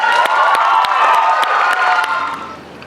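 At a spoken word poetry showcase, the crowd breaks into cheering and applause for a poet, sharp claps and shouted whoops over a loud crowd roar that begins to fade near the end.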